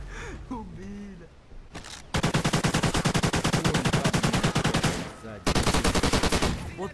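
Rapid automatic gunfire from Call of Duty: Ghosts: a muffled, busy opening, then a loud sustained burst of evenly spaced shots lasting about three seconds, a brief gap, and a second fast burst.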